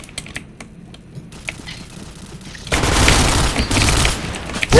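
Gunfire in the Point Blank shooter game: clicky keyboard taps and scattered shots at first, then a sustained loud burst of rapid fire filling the last two seconds.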